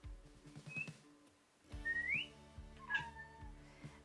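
A pet cat at home meows in a few short rising cries with pauses between them, close and fairly clear, with faint whistle-like tones among them and no talk.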